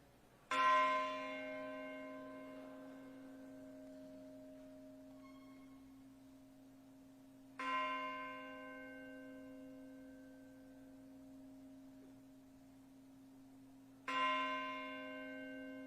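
The Arsenal bell rung at a dental school professionalism forum ceremony: three clear, resonant strikes spaced about seven seconds apart, each ringing out and slowly decaying into a quiet hall.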